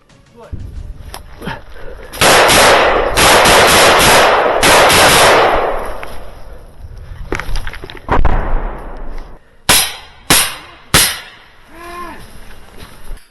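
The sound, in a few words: automatic gunfire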